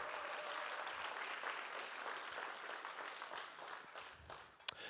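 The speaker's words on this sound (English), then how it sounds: "Big round of applause, all the generous people." Applause from a charity gala audience for generous donors, a dense, steady wash of many hands that fades slightly near the end, with a sharp single knock just before it stops.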